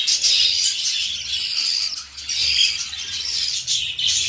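Pet budgerigars, Australian parakeets, one a cinnamon hen beside her mate, chirp and chatter in a busy, overlapping stream of high, shrill calls. The calls run close and fairly loud, with only brief dips throughout.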